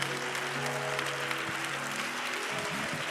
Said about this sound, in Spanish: quiero que levantes el mejor aplauso de su vida al Rey de Gloria